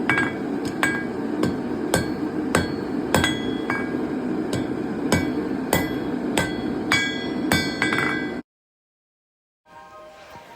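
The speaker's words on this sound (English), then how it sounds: "I'm going to go ahead and start forging out that tail, or the end of the tail of the knocker" Hammer strikes forging out the tail end of a hand-forged dragon's head door knocker, a steady series of sharp metallic clangs over a constant forge roar, then a sudden silence before the roar quietly returns.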